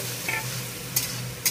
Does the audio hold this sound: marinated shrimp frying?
yes